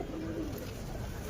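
Pigeons coo softly at close range, a brief low throaty call rising out of a muffled, rumbling background.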